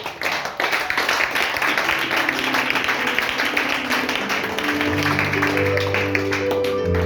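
A church congregation claps and applauds the Lord, dense continuous clapping from many hands filling the room, with a sustained musical tone rising in toward the end.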